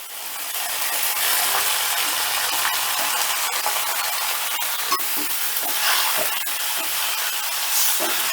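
Chopped bottle gourd sizzling in hot oil with a ginger tempering, a loud steady hiss with scattered scraping clicks from stirring.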